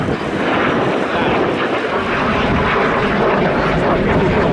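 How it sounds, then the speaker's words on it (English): Fixed-wing display aircraft climbing into a wingover at the RAF Cosford airshow, its loud, steady engine roar filling the whole moment with broadband noise and no pause. "And the aircraft pulling up for the first of many what we call a dairy wing over."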